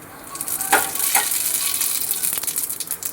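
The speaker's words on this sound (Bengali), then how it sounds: "এই যে রাঁধুনি ফোড়ন দিচ্ছি," Radhuni seeds temper in hot oil, making a close, bright sizzle with a few sharp crackles and spits over three seconds.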